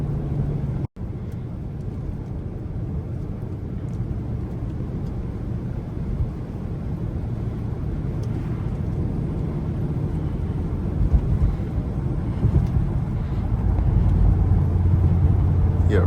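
A Range Rover SVR drives on a snowy road, heard from inside as a steady loud low rumble of engine and tyre noise with a deeper drone building near the end.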